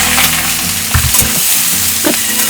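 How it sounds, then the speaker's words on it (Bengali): Chickpeas frying in hot oil in a pan, a loud close crackling sizzle with thumps and scrapes as they shift about. "আমরা এখন ছোলাটাকে এমনি ভেজে নেব"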